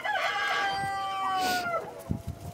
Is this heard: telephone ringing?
no